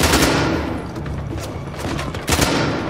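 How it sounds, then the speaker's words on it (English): Gunfire from the video game Uncharted: The Lost Legacy, a dense fusillade of sharp bursts in quick irregular succession, loud and close. "I shot him right in his neck!"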